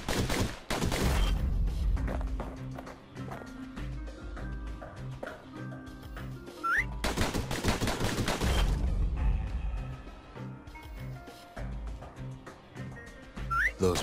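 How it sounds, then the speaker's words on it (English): Pistols fire rapidly in the action game Bastion, producing dense bursts of quick shots in two long volleys, with short whistling tones and game music between them. "Those pistols could spit out rounds just as quick as you could pull the trigger."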